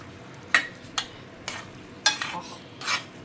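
A mixture of jaggery, grated coconut and cardamom is stirred in a pan, giving several sharp scraping strokes and light spoon knocks at irregular intervals, close and fairly quiet, with no talking.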